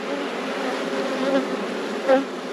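Honey bees in a large open hive make a steady, dense buzzing swarm sound up close, with a couple of louder individual bees droning past.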